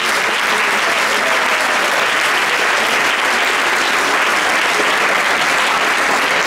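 A large audience breaks into loud, sustained applause, the dense clapping running unbroken for several seconds.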